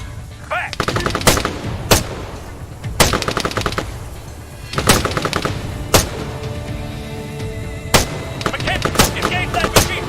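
Machine gun fire in the video game Arma 3: loud, close bursts of rapid automatic gunfire repeating every second or two, with sharp cracks and heavy thumps over a rumbling battlefield background.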